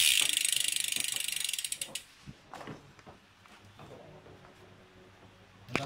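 Rapid ratchet clicking from the freehub of a Tropix road bicycle, a dense fast run of pawl clicks that slows and fades over two seconds, followed by a few scattered faint clicks and a final louder tick, with no voices.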